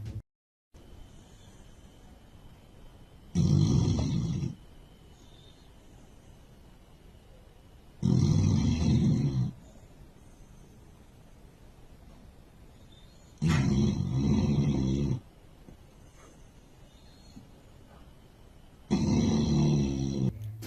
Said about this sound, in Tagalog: karaniwang humihilik si Ayat pero mas malakas ito ng gabi na yon